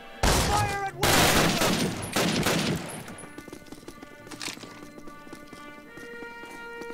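Bursts of loud close gunfire in Call of Duty, a dense volley in the first few seconds that fades into quieter game ambience and distant tones.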